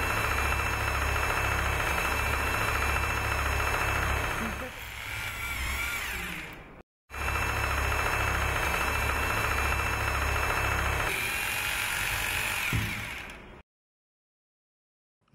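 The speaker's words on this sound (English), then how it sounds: "Drill carefully 2 holes into the sticker markings using 8 mm" A power drill with an 8 mm bit whines loudly and steadily drilling holes in a wall, pausing briefly midway before resuming, then cutting off abruptly near the end.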